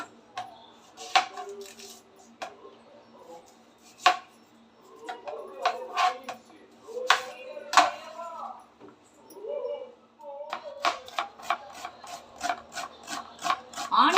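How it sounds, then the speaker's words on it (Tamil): An onion is cut with a knife in a home kitchen, making a series of sharp, close chopping taps in irregular bursts, with quiet talking between them. "அதுக்குள்ளே நம்ம வந்து ஆனியன் வந்து கட் பண்ணி எடுத்துக்கலாம்"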